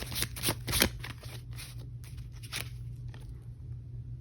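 A deck of oracle cards being shuffled close up in quick riffling bursts, densest in the first second and then softer, scattered flicks.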